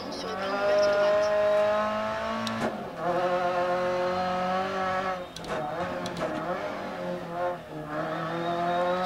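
Subaru rally car engine in the DiRT Rally video game, a loud steady harmonic drone that shifts pitch with gear changes and brief lifts, running continuously under co-driver pace-note talk.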